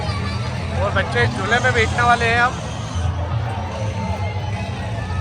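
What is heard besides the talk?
crowd hubbub at Eid fair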